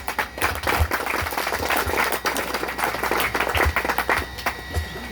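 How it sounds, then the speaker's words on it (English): Audience clapping at an award ceremony for the opening of an internet center in San Lucas Village, a lively mix of individual hand claps at close range, steady for several seconds and easing slightly at the end. "Let's give him a round of applause."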